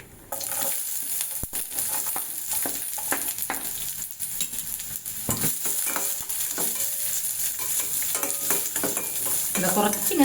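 Onions and curry leaves frying in hot oil make a loud, steady sizzle, with frequent clinks and scrapes of a stirring spoon throughout.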